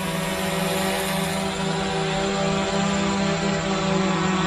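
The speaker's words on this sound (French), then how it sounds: "On démarre le drone, je le fais décoller à la main." A 4DRC M1 Pro mini drone, launched by hand, hovers and flies with a steady, close, loud whine of small propellers and a buzzing motor tone, continuous throughout and with no talk.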